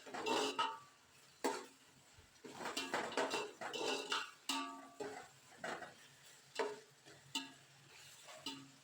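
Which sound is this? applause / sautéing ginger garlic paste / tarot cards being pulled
sautéing ginger garlic paste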